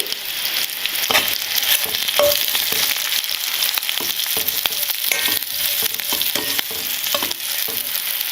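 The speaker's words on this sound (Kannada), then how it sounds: "ಇದು ಚೆನ್ನಾಗಿ ಸಾಫ್ಟ್ ಆಗೋವರೆಗೂ ಎಣ್ಣೆಲೆ ಫ್ರೈ ಮಾಡ್ಕೋಬೇಕು" Green chillies and tamarind frying in oil in a pan, a continuous bright sizzle with frequent clicks and scrapes of stirring throughout.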